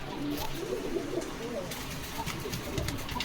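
Pigeons cooing at a pigeon farm in Bogura, soft repeated low coos mixed with other bird calls and shuffling, steady throughout, with a voice faintly present in the background.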